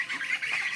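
Young ducks raised on a village homestead give a short burst of nasal squawks and quacks close by, with no talking.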